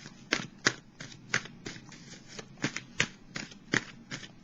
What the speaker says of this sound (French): on apprécie que je mélange les cartes devant vous